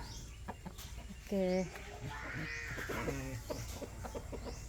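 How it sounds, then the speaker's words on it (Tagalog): A chicken clucks and crows in a backyard, two clear bursts close by, with a person's voice briefly heard nearby and birds chirping faintly in the background. "A chicken, guys."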